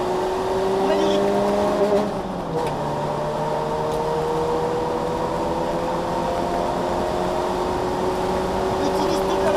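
Car engine on a race track, revving steadily through acceleration and braking with downshifts, pitch dipping around two seconds then climbing again, loud and continuous throughout.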